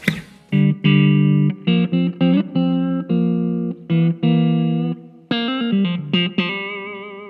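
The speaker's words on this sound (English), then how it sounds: "So you can go from a clean sound, which sounds like this" Clean electric guitar notes and chords played through a Marshall amp, bright and undistorted with ringing sustain, phrases separated by short pauses.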